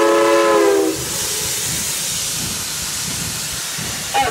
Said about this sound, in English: the brakes have applied at the rear of the train